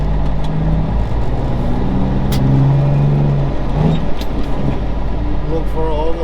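A car on the road for a long drive to Lansing, with a steady loud engine and road drone throughout, tonal whine shifting as it cruises, and a person talking over it.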